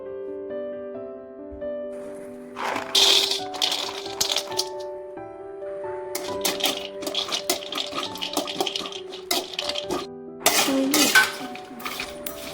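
Sun-dried cocoa beans rattle and clink against a hot pan as they are roasted and stirred, giving sharp, irregular bursts of clicking and scraping over a soft, steady musical background.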